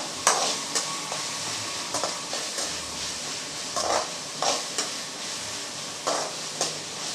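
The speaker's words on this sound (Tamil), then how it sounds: "சேர்த்து நல்லா வதக்கி விட்டுறலாம் தக்காளி கொஞ்சம் நல்லா வதங்கட்டும்" Chopped tomatoes sautéing in a pan for a dry fish curry, a soft continuous sizzle broken by repeated sharp scrapes and taps of a spoon stirring, close up with no talking.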